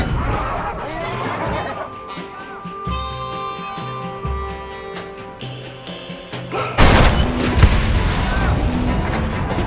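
Heavy booming cannon blasts and gunfire during a battle in the video game Red Dead Redemption, with loud thuds and crashes over a busy mix of game sound and voices, and one sharp big blast near the end.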